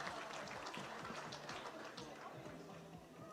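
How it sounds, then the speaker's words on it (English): Audience applause at the Shell Motorsports Excellence Awards, a steady patter of many hands clapping that fades slightly toward the end, with a voice partly heard beneath it. "A round of applause for them, please."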